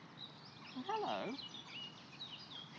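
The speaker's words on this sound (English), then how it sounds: "Why, you're a wonderful bluebird of happiness." Cartoon bluebird chirping in a short burst of bright, sweeping tweets near the middle, moderately loud over a soft background hiss, with scattered faint chirps before and after.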